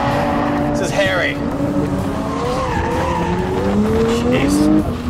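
A 1400hp Nissan GT-R drifting, its tires squealing and wailing in long rising and falling streaks over a loud engine roar, with someone talking over it.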